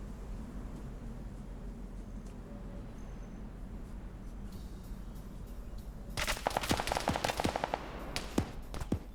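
Machine gun fire in an Arma battle, fast sharp bursts of rapid shots that burst in after several seconds of quiet ambient hiss, fairly close and loud.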